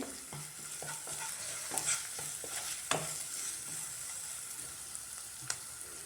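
A spoon stirs onion masala with salt in a frying pan, producing soft sizzling and a series of irregular scraping taps, close but fairly quiet, with no voices.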